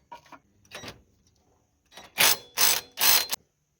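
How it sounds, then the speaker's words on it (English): Metal clicks and clunks as a camshaft sprocket goes onto a 1998 Toyota Sienna engine during timing belt work: a few faint taps, then three loud, sharp metallic knocks in quick succession, close by with no talk. "Now I'm going to put on the camshaft sprocket."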